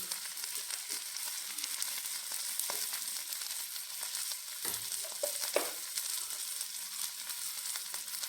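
Garlic, ginger, green chili and tomato fry in hot oil with a constant, bright sizzle up close, interrupted by a few scraping stirs.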